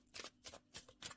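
A deck of angel oracle cards is shuffled by hand, four quick crisp riffling bursts at an even rhythm, close and fairly soft with no voice.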